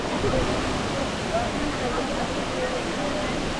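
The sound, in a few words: Mantayupan Falls waterfall in Cebu, Philippines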